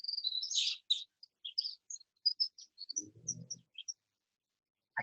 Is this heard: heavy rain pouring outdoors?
no